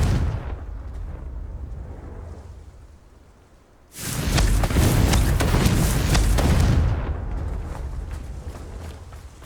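A Confringo blasting spell from Hogwarts Legacy goes off with a sudden loud boom around the four-second mark, followed by a roaring, crackling blast that lingers for a few seconds before tapering off.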